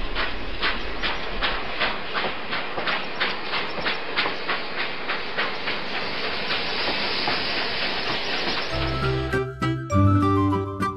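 A train rolls steadily along with rhythmic clickety-clack of wheels over rail joints, joined near the end by a burst of music.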